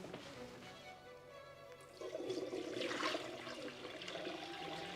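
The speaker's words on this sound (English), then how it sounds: "Let's dump the water into the sink." Orange dye water from fabric dyeing is dumped from a container into a sink, a rushing, gurgling pour that swells after a quieter start and continues steadily.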